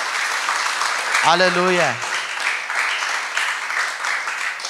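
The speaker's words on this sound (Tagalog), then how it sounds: "Pwede ba nating palakpakan ng Panginoon ng malakas na palakpak?" Church congregation clapping loudly in praise during a worship service, a steady dense wash of applause that runs throughout, with someone briefly shouting over it.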